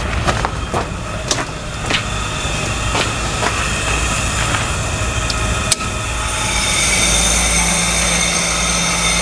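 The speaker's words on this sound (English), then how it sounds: "You can hear the fans just fired up." Greenhouse blower fans start up, a broad steady whooshing rush rising over the last few seconds after scattered clicks and knocks, moderately loud and close with no talking.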